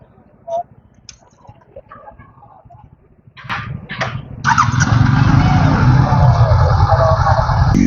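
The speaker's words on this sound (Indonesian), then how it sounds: "Sekarang kita akan test ride Honda CB 500X nih Auto Lovers" Honda CB 500X adventure motorcycle pulling away on a test ride, the engine and road noise rising to a loud, steady roar after a few quiet seconds of low idle and small clicks.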